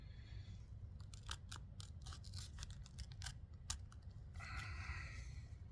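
A Lionsteel T5 knife slices through rope in a reverse cut, giving a quiet run of crisp, crunchy snaps as the fibers part, close up over a low steady background hum.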